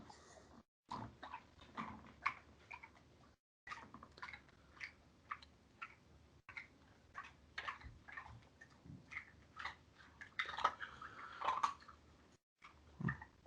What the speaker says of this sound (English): Hopefully you can hear the dog loudly eating like a rude piece of shit in the background.